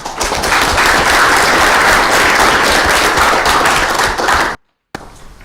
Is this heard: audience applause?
yes